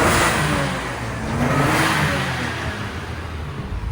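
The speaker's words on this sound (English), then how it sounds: "I don't know if you can hear it, but inside there, that's Mickey's GTR" A Nissan GTR engine inside a workshop gives a steady, dense mechanical drone with a low rumble, heard from outside the building at moderate distance with no talking.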